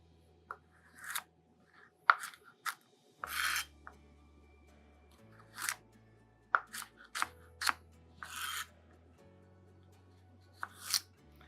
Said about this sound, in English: go on and cut them into chunks, just like you would for a soup